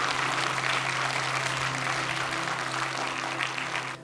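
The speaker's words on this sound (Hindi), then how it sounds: "या तो ताली मारो, मत मारो तो कुछ ऐसे मारो कि दिल से निकलनी चाहिए यार।" A seminar audience in Mumbai claps continuously for about four seconds, a dense, steady patter of many hands that fades slightly at the end, with no speech over it.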